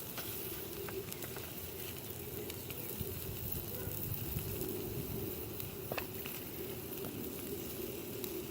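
Breakfast frying on a Sterno stove, a steady, soft sizzle and crackle that continues evenly throughout with no talking.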